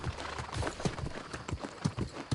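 Horse hooves clip-clopping in the fantasy video game New World: Aeternum, a steady rhythmic trot of close, fairly loud hoof beats on a road with a little ambient background.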